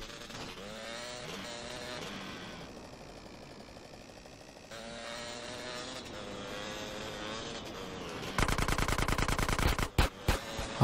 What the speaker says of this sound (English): No, stop shooting.